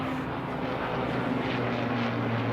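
Helicopters flying overhead produce a dense, steady roar of rotor and engine noise with a low droning hum. The noise stays loud and constant throughout, with no talking heard over it.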